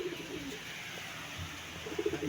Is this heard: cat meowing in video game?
no